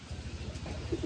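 Pigeons on a small pigeon farm, a coop that a microbus driver keeps as a side business, coo in low, soft, repeated rounds close by. No one speaks.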